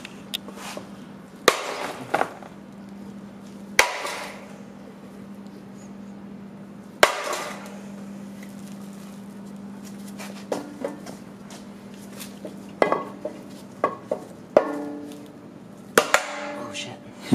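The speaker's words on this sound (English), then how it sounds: "see if we can't get it in with the block of wood and the larger hammer" A bushing is driven into a Honda CRX Si suspension arm using a block of wood and a larger hammer, giving sharp separate knocks at irregular intervals over a steady low hum, with people talking between blows.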